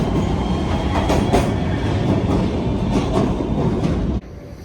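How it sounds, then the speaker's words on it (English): A PATH train of the Port Authority Trans-Hudson rides between New Jersey and New York City, a loud, close rumble with rhythmic wheel clatter that continues steadily before dropping away near the end. "Let's ride the Port Authority Trans-Hudson"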